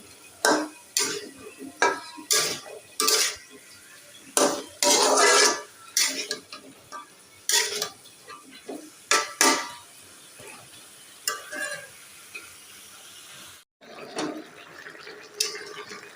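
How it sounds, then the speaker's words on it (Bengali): A mix of vegetables, including okra, eggplant, jackfruit seeds, pointed gourd and papaya, cooking in a pan, with a series of distinct metallic scrapes and clinks of a utensil against the pan, separated by quiet pauses, close and moderately loud. "অনেক রকমের সবজি একসঙ্গে মিক্সড করে রান্না করছি"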